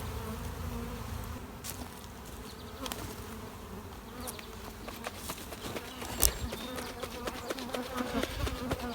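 Steady buzzing of many honey bees at an apiary of around thirty hives, a dense continuous drone close by, with scattered clicks and knocks from handling the hive equipment.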